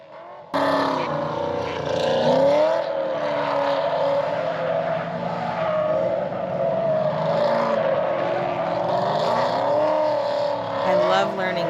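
A drift car engine revs loud and close, holding a strained, wavering roar that rises and dips as the car slides through a drift course.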